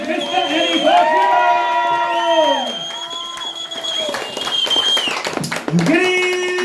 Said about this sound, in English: Let's cheer and welcome on stage, Mr. Eddie Bertram!